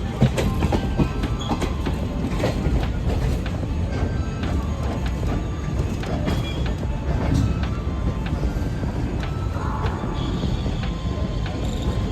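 A train rolls into a railway station with a continuous heavy rumble and rattling wheel clicks, a few faint squeals and knocks on top, loud and close throughout with no speech.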